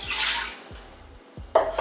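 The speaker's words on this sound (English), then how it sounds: "I've got a cup of water. I'm just gonna go ahead and put it in the bottom of my liner" Water splashes and gushes into an Instant Pot's metal liner in a few short pours, with hollow rushing and a brief ringing clink near the end.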